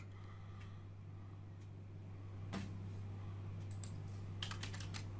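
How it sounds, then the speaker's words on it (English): Keys tapped on a computer keyboard in a quiet room as a maze game is played, with faint scattered clicks over a steady low hum, a few sharper taps toward the end. "And Anne is typing the words as she progresses through the maze"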